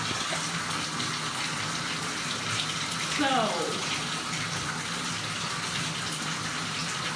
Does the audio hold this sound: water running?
yes